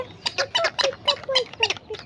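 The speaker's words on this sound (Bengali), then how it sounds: "পিকা পিকা বলতেছে পাখি" A pet talking bird gives a quick run of about eight harsh, squawky calls, close and loud, in a brisk uneven rhythm with short gaps between them.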